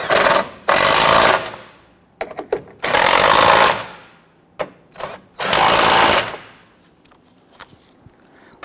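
Power tool snugging down the upper strut mount nuts on a Dodge Charger: three loud, close bursts of roughly a second each with short rattling taps between them, and no talk.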